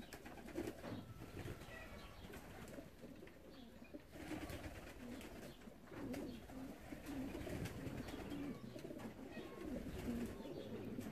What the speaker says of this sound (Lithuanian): Penki paukščiai atskrydo